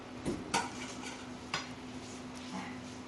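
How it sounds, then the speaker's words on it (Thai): Knife cutting limes on a board while preparing a Japanese sponge cheesecake: a few sharp close taps and clicks spaced about a second apart over a low kitchen hum, no talking. "นี่เราก็จะ หั่นมะนาว"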